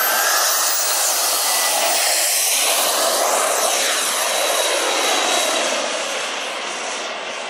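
A C&C Models L-39 Albatros RC turbine jet roars steadily at close range, a loud, continuous broadband whine and rush with shifting tones as it passes, slowly easing off at the end.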